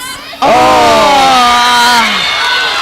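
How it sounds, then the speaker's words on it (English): A home crowd at a Corowa netball elimination final erupts suddenly in loud, sustained cheering and screaming that swells and holds near for a couple of seconds. "And it's the Corowa crowd that's coming alive now"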